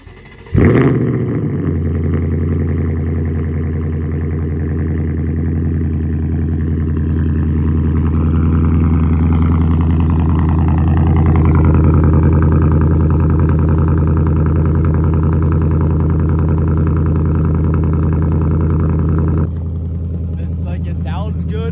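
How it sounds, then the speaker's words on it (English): A 2024 Mustang GT with a non-active exhaust, muffler delete and H-pipe cold-starts with a sharp crank and roar, then settles into a loud, deep, steady high idle that slowly eases down for about twenty seconds before cutting off. "how it sounds with a cold start with just a muffler delete, non-active exhaust."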